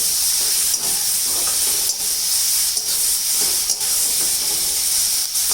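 Chopped onions roasting in a small amount of oil for a green chickpea curry, giving a steady, close sizzling hiss with faint stirring clicks.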